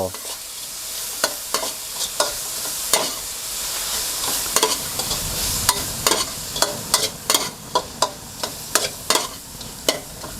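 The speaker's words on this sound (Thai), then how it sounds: "ใส่ใบกะเพราที่เราเด็ดล้างไว้แล้วนะครับ ที่มีน้ำติดอยู่ที่ใบด้วยนะครับใส่ลงไปเลย" Pork belly stir-fried with freshly washed, still-wet holy basil leaves crackles and sizzles steadily in a hot pan, cut by sharp repeated scraping clacks of a spatula stirring, with no talking.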